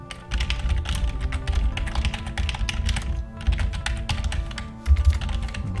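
Close, steady keyboard typing fills the whole stretch, a dense patter of key clicks with brief pauses while text is entered in Google Drive.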